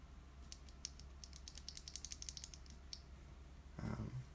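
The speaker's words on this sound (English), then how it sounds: "Kali switches Box Royal from Novel Keys. They are a tactile switch" Quiet keystrokes on a mechanical keyboard fitted with Kailh Box Royal tactile switches, a burst of clicky taps clustered across a few seconds, followed by a brief louder knock at the end.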